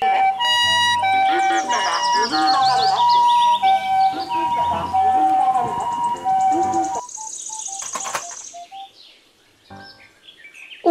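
A toy ambulance plays an electronic siren melody with repeating beeping tones over chirpy synthesized music, loud and close, then it stops and a few sparse beeps remain.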